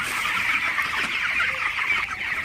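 Broiler chickens in a poultry shed cluck steadily as a dense, continuous flock chorus, close and moderately loud throughout, with no talking.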